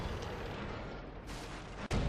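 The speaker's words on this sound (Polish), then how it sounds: "Tutaj strzał w T30. No niestety spóźniony strzał." A tank cannon fires in World of Tanks: a single sharp, loud blast bursts out near the end over a steady background of engine and battle noise.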